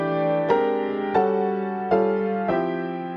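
Four sustained jazz piano chords, a rootless voicing in the left hand with added right-hand harmonies, struck one after another at an even pace, each ringing until the next, clear and unaccompanied.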